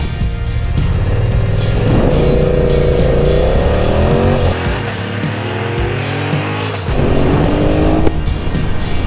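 A 2023 BMW F 900 R naked motorcycle launching hard from a standstill, its engine revving loudly up through several rising gear pulls with brief dips between shifts, close and alone.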